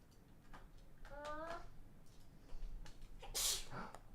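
A single sharp sneeze bursts out near the end, preceded by a short sharp inhale and quiet speech-like sounds, heard fairly close indoors.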